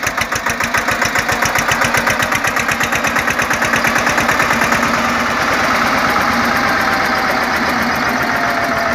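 A 2019 Eicher 242 25 HP tractor's diesel engine idles steadily nearby, a loud rhythmic chugging with regular pulses that holds an even throb throughout.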